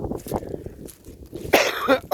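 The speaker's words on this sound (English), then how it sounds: "I don't know, but I'm coughing." A short, harsh cough bursts out near the end after quieter rustling and faint movement, close to the listener.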